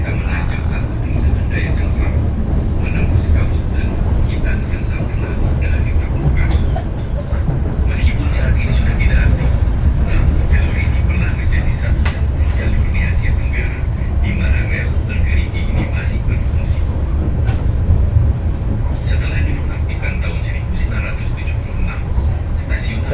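A steady, loud rumble of a passenger train running through a tunnel, with a continuous roar and faint rattling throughout, no clear breaks.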